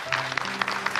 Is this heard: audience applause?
yes